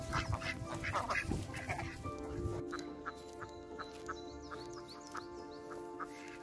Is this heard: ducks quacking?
yes